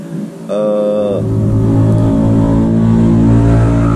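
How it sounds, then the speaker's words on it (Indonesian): A motorcycle engine roars up close and holds a loud, steady drone as it passes, drowning out everything else. "ada suara motor bisik."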